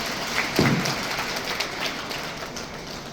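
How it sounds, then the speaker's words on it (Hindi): A crowd at a spiritual gathering claps steadily throughout, a dense, even wash of applause at moderate loudness with no pauses. "तालियां तो बजाओ भाई"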